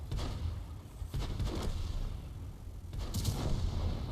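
Several heavy tank cannon booms from World of Tanks, roughly three blasts spread over a few seconds, each with a deep rumbling tail and dense background noise.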